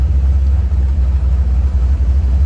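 Engine of a C4 Corvette project car runs steadily up close, a loud continuous low rumble at idle with no talk over it.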